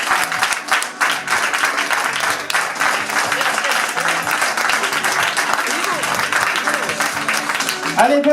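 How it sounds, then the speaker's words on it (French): At an evening party, a crowd applauds loudly and steadily, the dense clapping mixed with cheers and chatter and a voice cutting in near the end. "On peut l'applaudir bien fort s'il te plaît"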